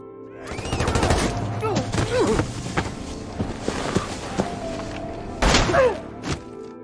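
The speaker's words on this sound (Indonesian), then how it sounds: "si tentara pun menembak Joel serta Sarah" A soldier fires a volley of gunshots in a film, sharp cracks and thuds scattered through the scene with a louder burst near the end, amid other clattering sounds and faint voices.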